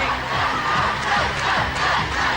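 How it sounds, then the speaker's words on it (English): A studio crowd at a team game show roars with cheering and rhythmic chanting, a dense, continuous wall of voices at steady loudness with no clear speech over it. "The excitement for the crowd now, chanting them on."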